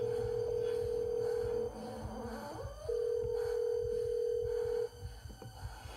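A steady telephone off-hook tone drones in the opening of a dark electronic music track, broken by a short gap and then returning, with haunting ambient sounds layered beneath it.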